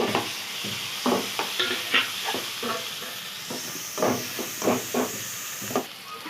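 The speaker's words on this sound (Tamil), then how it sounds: "வெங்காயம் சேர்த்துக்கலாம் கொஞ்சம் மஞ்சள் தூள் சேர்த்துக்கலாம் தக்காளி சேர்த்து வதக்கிக்கலாம்" Onion, turmeric and tomato sauté in a pan with curry leaves for a Tamil vallikizhangu fry. A spatula scrapes and stirs in irregular bursts over a steady close sizzle, with no talking.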